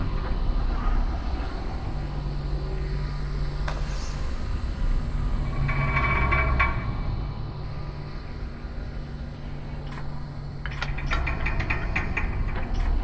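A tram in the video game Lone Echo 2 rumbles and clanks into motion as it is released, a low steady mechanical drone with a sharp hiss and metallic clatter partway through, continuous throughout.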